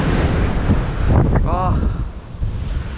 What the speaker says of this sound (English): it's twice as windy up here